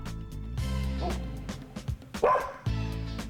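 A dog barks several times in short bursts, with a couple of higher yips mixed in, fairly close and loud.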